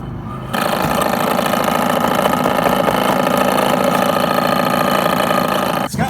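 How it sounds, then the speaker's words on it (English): A vehicle's blower motor kicks on after a brief quiet start, then holds a loud, steady mechanical whir with a buzzing hum, close by, before cutting off near the end. "Check out this, my blower motor"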